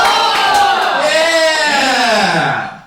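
Comedy club audience cheering loudly and continuously, a dense crowd roar with rising whoops that swells and then fades at the end.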